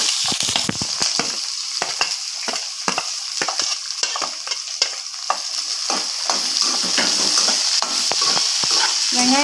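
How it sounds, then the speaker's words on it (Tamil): Onions sautéing in a pan with dried red chillies, garlic and ginger for tomato chutney, loud close sizzling broken by frequent sharp scrapes and clicks of a stirring spoon against the pan. "வெங்காயம் கொஞ்சம் நல்லா வதங்கட்டும் ஃப்ரெண்ட்ஸ்."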